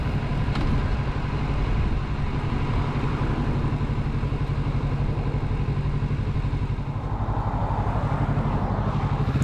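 A 2024 Kawasaki Z650RS motorcycle ridden on the road near Carson City, its engine a steady, loud, close drone with a rapid pulsing beat and wind rush, no one talking.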